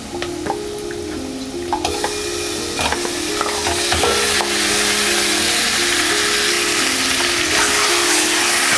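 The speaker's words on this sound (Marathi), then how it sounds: "हे मॅरिनेटेड मटण आपल्याला छान असं परतून घ्यायचं आहे." Marinated mutton sautéing in a pan over medium flame, a steady close sizzle and hiss with scraping stirs, growing louder and denser after the meat goes in.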